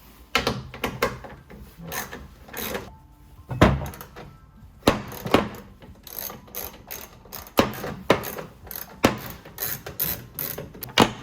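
Rapid ratchet clicks come from a 10mm ratchet backing out the taillight bolts on a 2017 Toyota Tacoma, in repeated close bursts with short pauses and small metallic knocks between them.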